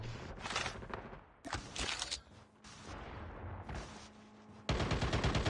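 Shotgun blasts and other gunfire in a competitive online shooter match, dense and continuous with sharp bursts and a loud final volley, up close, without voices.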